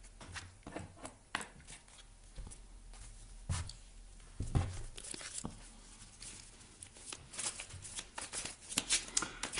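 Tarot cards being shuffled for a reading, a run of crisp, papery riffles and flicks in quick irregular bursts, close and moderately loud, with no talking.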